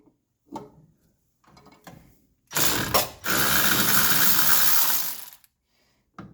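Ratchet wrench working the brake line fittings off the master cylinder of a 1972 Chrysler Newport, a few quick clicks followed by a loud, sustained burst of ratcheting for about three seconds, with no talk.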